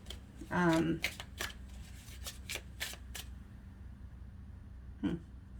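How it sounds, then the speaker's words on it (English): A deck of tarot cards is shuffled in quick, crisp riffling bursts, close and fairly soft, with a brief voice sound at the start and again near the end. "you see me shuffling"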